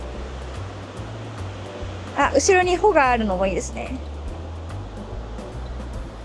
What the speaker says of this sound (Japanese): 波が来た。